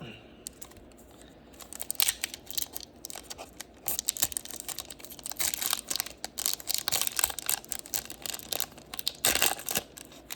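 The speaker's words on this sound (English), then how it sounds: "I know I'm opening sports cards right now" Sports card packs being torn open by hand: a steady run of crinkling, ripping wrapper and foil noises that comes in frequent short bursts and grows busier and louder toward the end.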